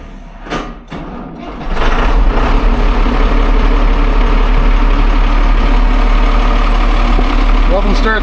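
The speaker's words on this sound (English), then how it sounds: "Nothing starts quite as good as the Cummins." A Cummins diesel engine with no preheat turns over and fires on a farm tractor, then settles into a loud, steady low idle rumble, with brief talk and clunks before it catches.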